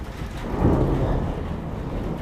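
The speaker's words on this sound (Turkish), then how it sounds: "mükemmel gök gürültüsü var." Heavy rain pours steadily while low thunder rumbles close by, with no voices.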